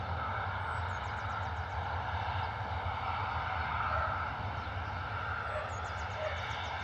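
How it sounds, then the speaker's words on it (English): Airbus A320neo jet taking off at Bristol Airport, heard as a steady, loud broadband engine roar that stays constant throughout, with no talk over it. "320 Neo off to Funchal."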